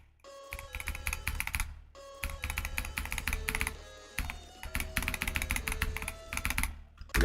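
Computer keyboard typed on in rapid bursts of clacking keystrokes with brief pauses between runs, close and fairly loud, with no talking.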